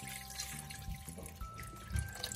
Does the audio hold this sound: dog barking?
no